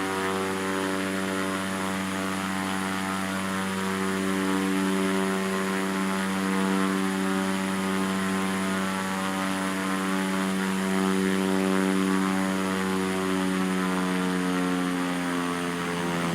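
Airplane engine taxiing toward the runway, a steady loud propeller-and-turbine drone with sustained tonal hum, constant and close throughout with no talking.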